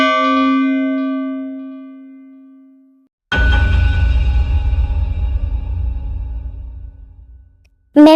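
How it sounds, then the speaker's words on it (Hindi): A two-tone doorbell chime rings out clearly, its tones fading over a few seconds, followed by louder rustling and a brief final ding. "कुछ देर बाद डोरबेल बजता है।"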